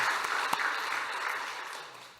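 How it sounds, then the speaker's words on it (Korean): Short burst of congregational applause in a church service, bright and crowded clapping that starts loud and tapers slightly toward the end, with no voices over it. "다시 한번 격려의 박수 한번 해주시고요."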